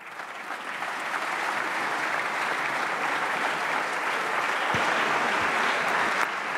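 Sustained applause from a parliament audience at a solemn session marking 50 years since 25 November 1975, dense steady clapping that swells and holds loud throughout.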